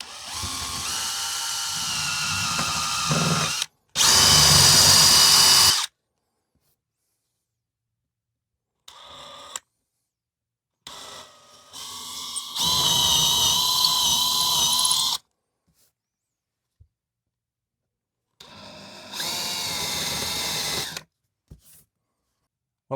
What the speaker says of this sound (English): Now you want to try to keep the drill as level as possible and go straight in.